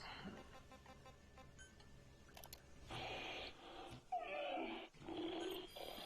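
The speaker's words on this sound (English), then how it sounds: "I now have bear noises." Growling bear noises from the video game Metal Gear Solid 5, a few rough, throaty bursts that come and go against faint game ambience.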